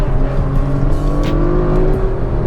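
Kia Stinger GT dropping to second gear at about 45 mph to pass, its engine roaring steadily loud and close as it accelerates, alone.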